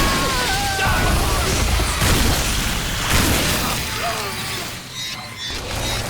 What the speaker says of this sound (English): The Boner is possibly one of the best names for a shotgun so far